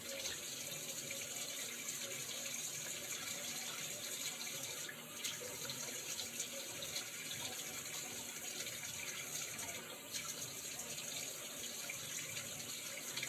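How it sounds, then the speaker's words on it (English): Water runs steadily from a tap while someone wets their hair, a soft continuous hiss and splash at close range with no talking. "I'm just wetting some water on my hair real quick"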